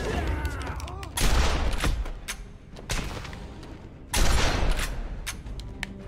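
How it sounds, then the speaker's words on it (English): Shotgun blasts in Batman: Arkham Asylum: two loud, heavy booms about three seconds apart, with a smaller report between them and rumbling game ambience throughout. "Is that a shotgun?"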